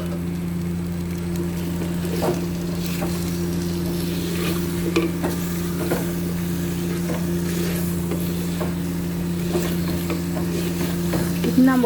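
Mutton curry with fried potatoes stirred in a clay pressure cooker pot, with steady scraping strokes over a constant low hum and a faint sizzle of oil, fairly close and continuous with no voices.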